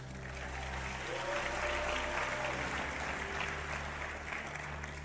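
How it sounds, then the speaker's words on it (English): Sustained audience applause at a motivational speaking event, a steady dense wash of clapping held at even strength for several seconds over a low hum, with no talk. "give her a round of applause."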